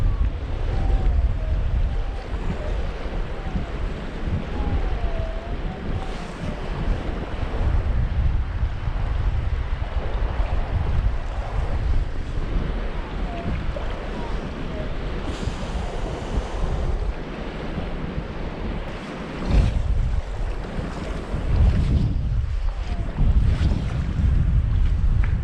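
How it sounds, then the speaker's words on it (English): Strong wind gusts buffet the microphone beside Spinney Mountain Reservoir in the mountains, a loud, continuous roar with water lapping underneath and surges rising and falling for the whole stretch. "the wind has picked up a bunch"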